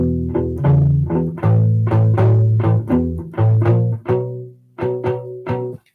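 A U-Bass plays the closing two measures of a 12-bar slow shuffle blues, with a run of plucked rubbery low notes in a lilting swing rhythm and a brief pause before the final few notes.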